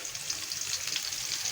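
Sweet pumpkin pieces fry in a pan with a soft, continuous crackling sizzle, faint and steady with no voices.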